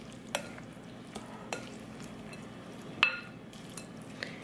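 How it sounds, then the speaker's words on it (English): Winter squash salad with seeds gets a final toss in a bowl, giving soft scraping stirs with a few sharp utensil clinks spaced over a steady low background hum. "Give it a nice"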